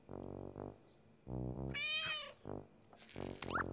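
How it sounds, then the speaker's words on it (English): A cartoon cat meows several times in a row, clear and close, with short bright cries and a soft purr between them and no talk over it. "Sarah's cat Ollie was very happy that Caillou had come for supper"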